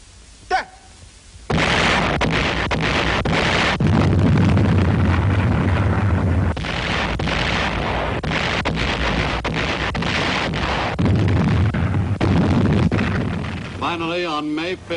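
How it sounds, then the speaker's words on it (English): Heavy artillery bombardment of the Corregidor island fortress in the Philippines, 1942: a loud, continuous roar of booming explosions and gunfire that persists for most of the clip. "the Japanese bombarded the island fortress with every weapon at their command."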